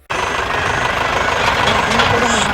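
Tractor engine running near a riverbed where sand is being stockpiled and hauled, a steady, loud mechanical rumble with knocking texture that starts abruptly and holds for a couple of seconds.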